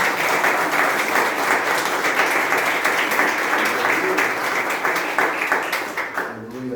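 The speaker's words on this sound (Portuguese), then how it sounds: "Dá para aplaudir o Senhor por isso?" Church congregation applauding together: dense, continuous clapping close by, steady for nearly seven seconds before it begins to thin out at the end, with some voices mixed in.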